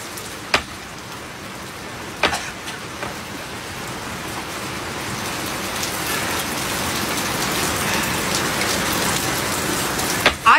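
Steady rain pours down outdoors, a dense continuous hiss that swells slightly over time, with a few sharp knocks and taps on top.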